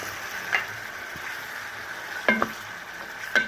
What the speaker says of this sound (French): ma sauce mijote, mes choux-fleurs sont en train de cuire